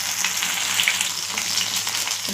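Meat curry cooking in a pan on low heat: a continuous close, bright sizzle and bubbling hiss, even and unbroken, with no voices over it.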